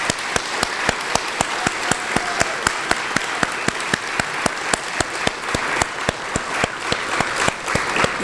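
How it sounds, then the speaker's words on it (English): An audience at a community college awards ceremony applauds its student scholars with continuous, even clapping throughout, a few sharp claps standing out in a steady rhythm near the front. "Let's have one more round of applause for all of our student scholars."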